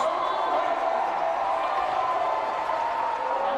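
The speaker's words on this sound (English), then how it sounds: "South Medford crowd is letting it go right now as they're introducing them" Spectators at a South Medford versus North Medford high school volleyball match roar steadily from the stands during team introductions, a sustained wash of crowd noise heard from a distance with no breaks.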